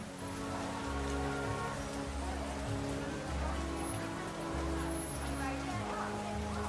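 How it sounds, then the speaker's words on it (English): Rain falling on wet pavement at night in the video game World of Goo 2, a steady hiss of drops over a low rhythmic music bed, fairly quiet throughout. "I step into the inky black night, my footsteps falling heavily on the wet, rain-soaked pavement."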